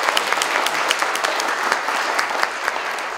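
An audience at a mayoral scholarship award ceremony claps for the recipients on stage, a loud, dense applause of many hands held steady throughout, with no voices over it.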